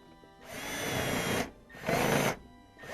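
A power drill runs in two bursts driving screws into a 1998 Whirlpool dryer during restoration, a loud sustained whir of about a second, a short pause, then a second shorter run, close by with no talk.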